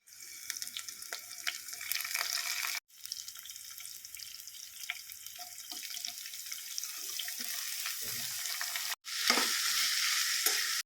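Oil crackles and sizzles close by as curry leaves fry in tempering oil, with scattered pops and a brief gap before a louder burst of hissing near the end.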